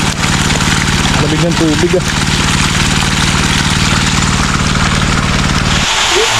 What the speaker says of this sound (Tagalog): Ganyan yung buga ng makina natin na yan mga buddy